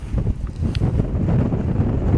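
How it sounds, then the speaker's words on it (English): Gusty wind buffeting the microphone, a low rumbling roar with no voices. "It's a bit windy."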